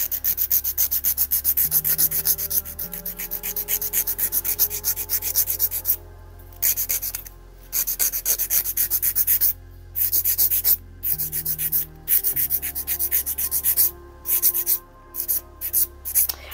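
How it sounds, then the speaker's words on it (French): Acrylic nails being filed down by hand with a nail file, a close, loud, rhythmic rasping in quick back-and-forth strokes with brief pauses between passes. "Alors forcément à la lime, hein, c'est beaucoup plus long qu'à la ponceuse."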